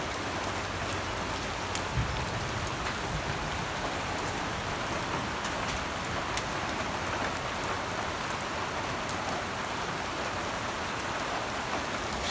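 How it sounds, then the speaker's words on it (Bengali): Heavy rain pours down steadily, a sudden downpour outdoors on a busy street during the pre-Eid season, making a dense, even hiss that holds constant throughout with no voices. "অনেকদিন পর আজকে হঠাৎ করে বৃষ্টি নামছে"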